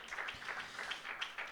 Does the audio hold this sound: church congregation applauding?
yes